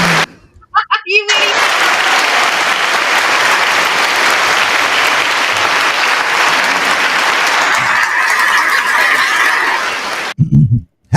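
Loud, dense audience clapping begins after a second of sparse claps and runs steadily for about nine seconds before stopping abruptly, with a voice briefly heard at the very end.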